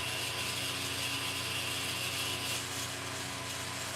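Sewing machine winding a bobbin, a steady mechanical whir with a faint rapid ratcheting texture and low hum, constant and fairly quiet throughout, no speech.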